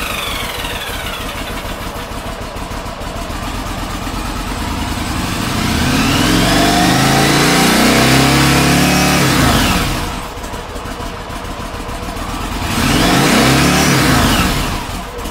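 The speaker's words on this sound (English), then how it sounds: "when I yanked the throttle open and shut it quickly" Yamaha Virago XV1000/XV1100 motorcycle engine idling, then revving hard twice as the throttle is yanked open and snapped shut, each surge rising and falling back to a close, loud idle.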